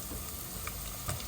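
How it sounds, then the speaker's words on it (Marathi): Whole spices sizzling in hot oil while being stirred, a soft continuous crackle with a couple of brief clinks, faint and close. "आणि हा सगळा खडा मसाला टाकत आहे. थोडंसं हलवून घ्यायचं याला"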